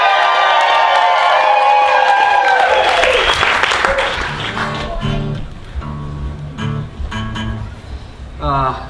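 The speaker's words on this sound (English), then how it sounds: "people are going to cheer as if you are their favorite band from Atlanta, Georgia" A live radio show audience at a festival bursts into loud cheering and whoops, then claps steadily, the applause thinning and fading toward the end.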